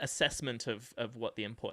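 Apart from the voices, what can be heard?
No distinct noise like a dog, phone or traffic.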